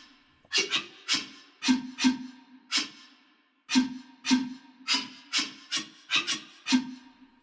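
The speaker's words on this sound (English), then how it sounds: "We have tongue rams." Tongue ram articulations from the Neo Trio woodwind sample library: percussive, hollow pitched thumps with a low resonant tone, played one after another in an uneven rhythm, close and dry against silence.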